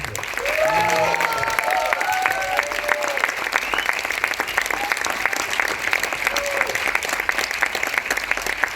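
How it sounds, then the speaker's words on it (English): An audience at a community event cheers and applauds loudly for Siddharth, with dense, steady clapping and a few shouts rising early, then holding for several seconds. "I want you to give a loudest cheer to Siddharth."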